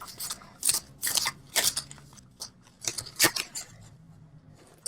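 Tarot cards being handled and pulled from a deck, a series of close, crisp papery swipes and snaps in irregular bursts with quiet gaps between.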